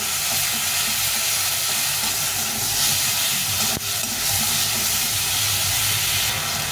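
Ground ginger, cumin and chili paste with turmeric frying in a pan, heard as a loud, dense, continuous hiss and sizzle close by, with one brief knock partway through.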